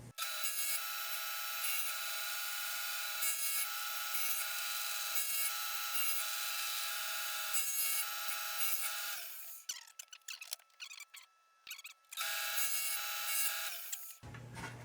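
Power saw blade cutting shallow slots about 5/16 inch deep in wood for masonite trays, a loud high whine with repeated cutting passes, dropping out briefly between slots before resuming.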